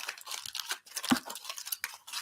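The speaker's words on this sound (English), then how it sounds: "So I just crumple this up" Crinkly aluminum foil crumpled into a doll form for papier-mâché, short bursts of rustling and crackling, close by and fairly quiet, with a brief sharper crunch midway.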